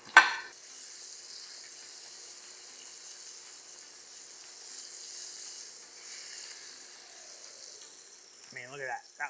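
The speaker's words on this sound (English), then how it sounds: "we're gonna fry this till golden brown delicious" Flour-dredged pork chops fry in a pan in batches, Southern smothered-style, with a faint, steady sizzle hissing in the background after a brief clatter at the start and a short burst of voice near the end.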